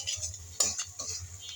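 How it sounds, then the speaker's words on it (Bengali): Spices with dry chili powder being stir-fried in a pan for a meat dish, a brief quiet scrape of a spoon against the pan over a low sizzle, with one sharper metallic stroke midway. "এভাবে ভালো করে কষাতে হবে যাতে মশলার কাঁচা গন্ধটা চলে যায়।"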